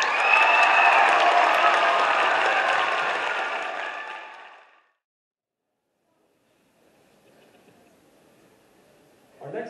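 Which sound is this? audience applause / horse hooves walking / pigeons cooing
audience applause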